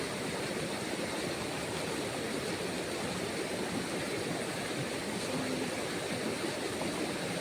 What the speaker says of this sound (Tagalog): Merong ganitong tubig.